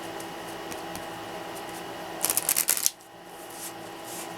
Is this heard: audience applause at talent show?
no